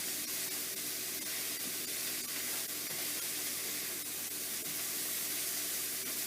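Steady, dense hiss and crackle of jackfruit sizzling in a frying pan, constant and close with no pauses or talk.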